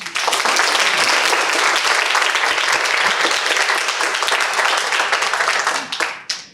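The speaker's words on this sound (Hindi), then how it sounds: "ताली नहीं बजाते हो क्या तुम लोग?" Loud, dense audience clapping fills the room steadily for several seconds, a close, continuous roar of hands that tapers off abruptly at the end.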